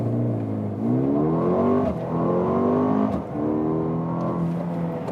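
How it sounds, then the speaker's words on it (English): A Mercedes-AMG GLB 35 with an 8-speed dual-clutch gearbox launches hard in Sport Plus mode, its engine surging loud and close in rising pulls broken by two quick upshifts. "Let's start with the launch control in the Sport Plus mode"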